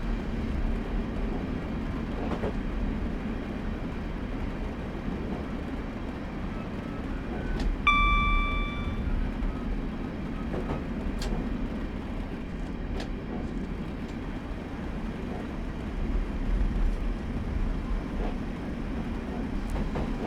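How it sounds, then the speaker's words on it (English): A train rolls and coasts on the Sheerness to Sittingbourne line toward Queenborough Station in Train Simulator 2015, a steady low rumble of wheels on rail, with a brief tonal squeal or whistle partway through. "at this point we'll just let the train coast into Queenborough Station"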